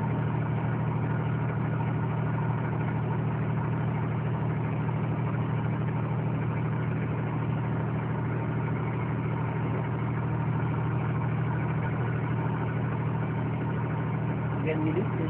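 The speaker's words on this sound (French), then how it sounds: "Ça, c'est le turbo" Car engine idling with the turbo running during a pre-departure check, a steady low hum that stays even throughout.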